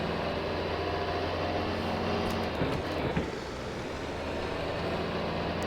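A 1970s tractor pulls away in the Farming Simulator 22 game, a steady loud engine drone with faint clicks partway through, no talking.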